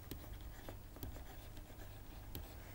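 Pen writing on paper during a probability lesson, faint scratchy strokes with a few sharper taps, close but quiet over a steady background hiss.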